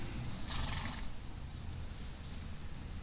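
A horse wearing a cast paws at the ground with a hoof, giving one brief scuffing burst near the start that then fades into quiet background.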